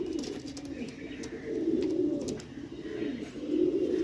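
Pigeons at a market stall coo in a low, continuous, overlapping murmur, fairly close, with swelling phrases throughout.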